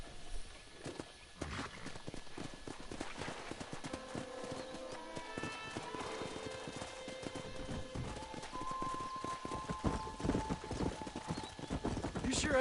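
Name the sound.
horse hooves clip-clopping, from a video game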